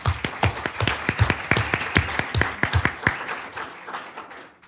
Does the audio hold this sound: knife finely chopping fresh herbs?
no